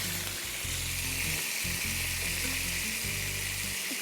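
Hot oil sizzles and fries loudly and steadily in a pan as chicken is browned for a roast masala, a continuous close hiss with low cooking rumbles underneath.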